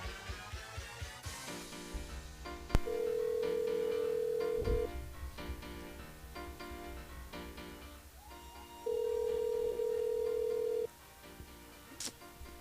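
A telephone ringback tone sounds as a live radio morning show on Kayanm FM calls a listener's mobile: two long, steady buzzing tones, each about two seconds, separated by a pause, over a background music bed.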